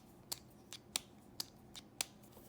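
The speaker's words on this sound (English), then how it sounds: "Push it in, and listen for this. That's a really, really satisfying click." A Fisher pen's push-button mechanism clicks sharply several times, about five or six crisp, close, isolated ticks spaced roughly half a second apart against a quiet background.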